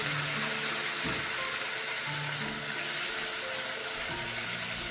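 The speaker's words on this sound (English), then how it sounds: "Now I'm going to add in 1/4 cup of soup broth and let it get a nice boil." Lamb soup broth heating in a pot, a steady steamy hiss with soft bubbling, constant and moderately close, broken by a few low thumps.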